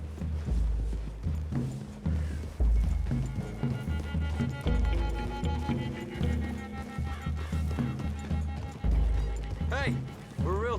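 Horse hooves clip-clopping through trees in Red Dead Redemption 2, a steady trotting rhythm buried under loud game music and voices throughout.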